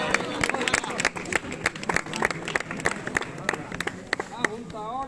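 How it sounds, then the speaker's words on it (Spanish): An audience at a Cádiz Carnival street performance clapping in a lively, uneven burst of applause with crowd murmur, and a voice speaking near the end. "Un aplauso a la junta ahora"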